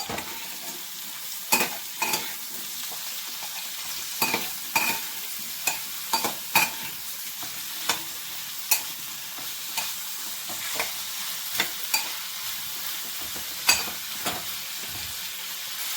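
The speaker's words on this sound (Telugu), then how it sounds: "ఇప్పుడు మనం దీన్ని చక్కగా కలిపేసుకుందాం" Ridge gourd and peanut chutney mixture is stirred in a pan over steady frying sizzle, with spoon scrapes and clicks recurring every second or so; no talk.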